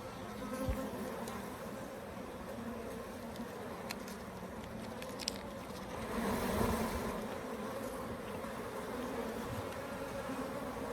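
A dense, steady buzz of Africanized hybrid bees swarms around an open top bar hive, a continuous close drone that swells briefly midway with faint knocks and clicks underneath.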